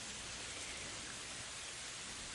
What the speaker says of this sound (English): The rain drums against the window, a ceaseless tap, tap, tap